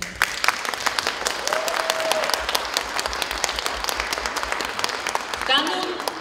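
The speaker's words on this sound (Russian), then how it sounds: "И я думаю, что сейчас ваши аплодисменты будут нашей поддержкой." Hall audience at an 8 March holiday concert applauding, a steady patter of many hands clapping at moderate volume, with a faint voice briefly audible near the end.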